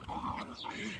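Dogs scuffling in a fight, giving short high whimpers and yelps with some low growling, fairly faint and brief.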